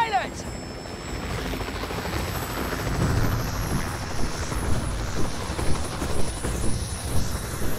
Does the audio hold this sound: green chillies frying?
no